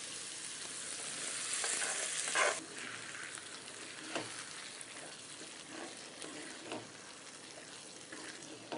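Quiet sautéing in a pan while cooking kodi pasalai kadaisal, a soft sizzle with occasional stirring scrapes and a brief louder burst early on, with no talk.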